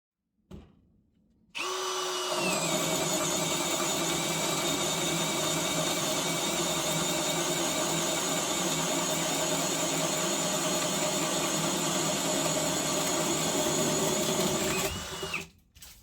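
A Parkside Performance cordless drill bores with a 65 mm Milwaukee Switchblade bit, starting after a brief knock, then holding a steady, loud high-pitched whine and grinding drone for about thirteen seconds before spinning down.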